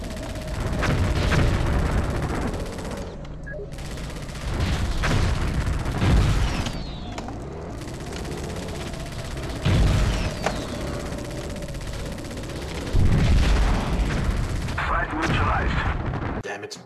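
Cannon and gunfire in the video game Hostile Waters: Antaeus Rising, with repeated heavy booms and bursts of shots over a steady engine drone across rocky terrain, loud and continuous.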